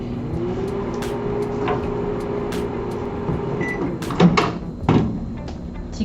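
A 700 W household microwave oven runs a steady, low hum while heating soap base, with a few clicks and clatters near the end and no talking.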